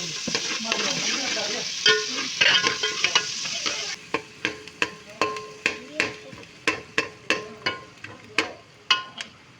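Small pieces of onion, capsicum, carrot and tomato frying in hot oil, a busy sizzle at first, then a regular run of sharp spoon knocks against the pan as the vegetables are stirred.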